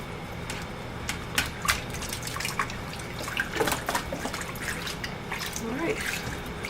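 A wool cloth diaper soaker being worked in a basin of water, with close splashing, dripping and sloshing as the wet cloth is squeezed and plunged, uneven in rhythm, with no talking.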